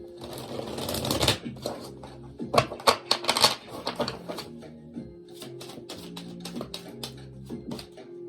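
Tarot cards riffle and flutter in quick bursts of papery clicks, loudest early on, then softer shuffling and handling.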